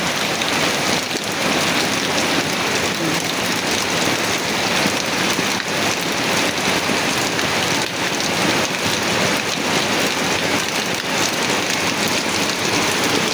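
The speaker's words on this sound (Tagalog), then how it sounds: "Lakas talaga ang ulan." Heavy typhoon rain pours down outdoors near banana plants and a kamias tree, a loud, dense, unbroken roar of drops hammering surfaces from start to finish.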